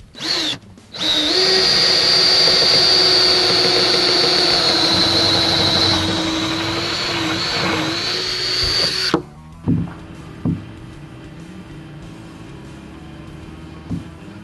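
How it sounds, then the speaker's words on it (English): A power drill whines steadily and loudly for several seconds as it bores out drain holes in a composite truck bed, then stops, followed by a few knocks and quiet handling. "we're going to have to drill out the bed draining holes a little bit to make room for these tubes"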